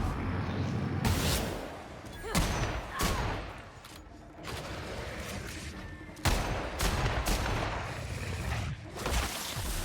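Heavy gunfire in The Outer Worlds game, with repeated loud bursts and volleys of shots cracking out over several seconds, interspersed with brief lulls.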